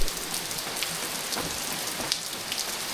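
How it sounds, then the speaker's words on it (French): Heavy rain pours steadily on the roof of a garage in the south of France, where a Ford Transit Custom van conversion is being built: a dense, unbroken hiss of drops with a few louder splats, no voices. "Voilà, il pleut grave."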